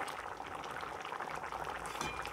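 Taro pieces simmering in water in a covered pot, a faint, continuous rolling bubble and hiss without pause.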